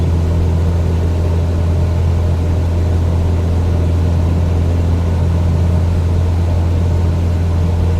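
Aircraft engine at full throttle climbing in a flight simulator game, a loud steady low drone with a constant hum and no changes in pitch, playing alone without voices.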